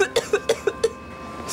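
A man coughs violently in a rapid burst of about six harsh, close coughs, followed by a short quiet pause and a final rasping breath.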